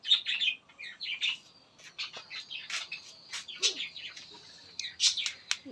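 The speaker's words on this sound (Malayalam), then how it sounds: "ഇത് ലവ് ബേർഡ്സുകൾ കേട്ടോ." Pet lovebirds on a rooftop terrace chirp and tweet in rapid, overlapping bursts throughout, close by and fairly loud, with occasional squawks.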